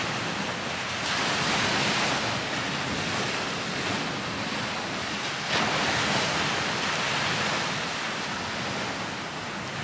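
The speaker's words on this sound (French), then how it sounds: "Je te laisse écouter le bruit des vagues aussi." Ocean waves wash steadily onto the shore, a broad continuous roar with gentle swells, heard alone with no voices.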